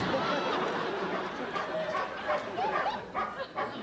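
A friendly girl dog vocalises with short yips and bow-wow sounds amid a busy, noisy indoor room, the calls brief and mid-distance, partly under background chatter.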